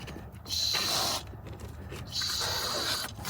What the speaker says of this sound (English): I'm going to kind of just get it all the way in there and just start spraying